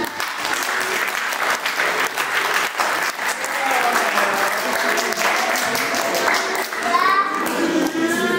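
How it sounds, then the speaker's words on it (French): A church congregation at a protestant service applauds loudly, with dense clapping throughout and children's voices chattering and squealing over it. "on peut les applaudir"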